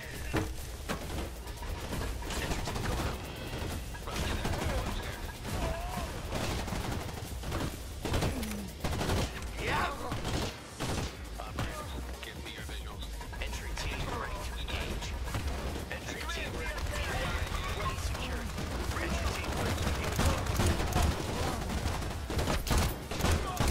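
Gunfire in the video game Crime Boss: Rockay City, with rapid bursts of shots and fusillades crackling throughout under steady game background noise and occasional voices.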